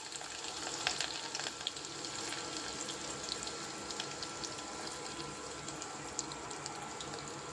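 Chopped onion sizzles and crackles in hot oil, a steady close frying hiss with small pops and occasional sharper spits over about seven seconds, no voices.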